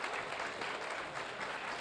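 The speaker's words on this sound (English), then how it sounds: "please give a big round of applause to Will Page" Applause from a conference audience greeting Will Page, editor of Pivot, at a panel on music streaming and advertising: a brief, fairly soft, even wash of many hands clapping with no speech.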